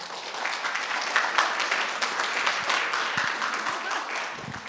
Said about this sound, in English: big round of applause for Gordon